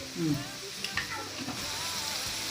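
Chicken thoran masala with chili powder, coriander, garam masala and pepper being stirred and fried in a pan, a steady sizzle broken by a few scraping stirs, close and moderately loud.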